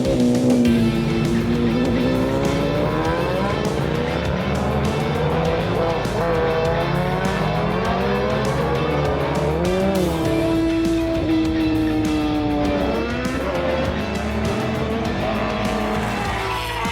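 Racing sidecars and solo motorcycles lap a road circuit during Southern 100 practice on the Isle of Man, a loud, continuous roar of engines rising and falling in pitch as machines pass, dense and sustained throughout.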